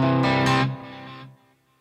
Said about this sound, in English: So now you hear the delay is going back and forth.